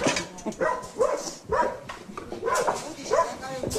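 A dog barks repeatedly in sharp, rhythmic bursts close by, with people talking over and between the barks.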